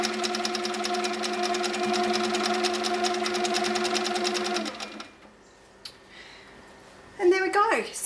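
A Handi Quilter Sweet Sixteen sewing machine stitching raw edge applique, running in a fast, steady buzz for several seconds before stopping, followed by quiet handling noise and a brief voice at the end.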